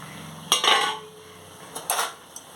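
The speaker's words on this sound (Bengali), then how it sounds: "এখন বেগুনগুলো দিয়ে দেবেন" A few metallic clinks and scrapes of a utensil against a pan as fried eggplant is added, in short separated bursts with quiet between them.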